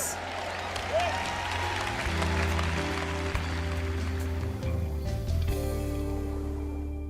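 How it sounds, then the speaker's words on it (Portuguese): A church congregation applauds in praise of God during a sermon, a steady wash of clapping over a low sustained musical drone and hum, moderately quiet and continuous throughout. "Vamos aplaudir, louvando ao nosso Deus"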